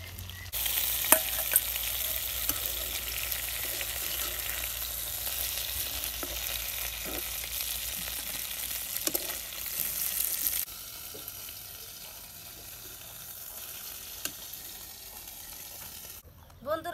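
Rohu fish frying in a pan gives a steady, close sizzle with stirring scrapes, loud at first and then quieter and softer after the fish is lifted out, with a faint voice at the very end.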